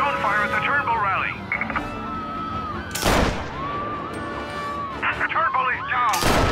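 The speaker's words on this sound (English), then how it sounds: "Reports of gunfire at the Turnbull rally." Gunfire in the video game Mafia: Definitive Edition, a few loud sharp bursts mixed with a radio-style voice and ambient game sound, with people talking around the shots.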